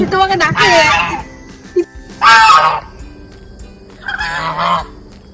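A goose honks loudly in three separate bursts on a village road beside a tea garden, close by, with quieter rustling and background sounds between the calls.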